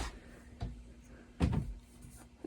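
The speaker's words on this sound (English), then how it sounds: "I've got a drawer of some supplies there." A drawer holding packing supplies at a shipping station slides open, with a soft knock, a louder thump and rattle of contents, fairly quiet and close, with no talking.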